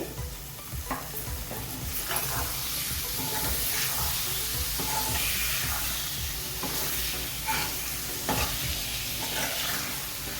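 Half a kilo of cleaned, cut chicken liver sizzles and fries steadily in a pan, with repeated stirring scrapes and clinks rising over the constant hiss, close and loud with no talking.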